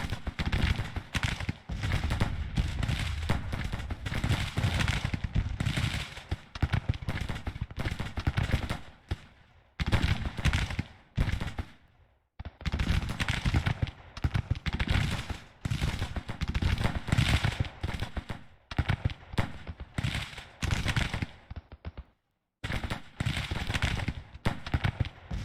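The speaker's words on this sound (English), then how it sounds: "Bombardment." Artillery bombardment in the Grand Tactician strategy game: rapid volleys of cannon blasts crackle and boom almost continuously for long stretches, broken by a few short silent gaps, loud and dense with no talk.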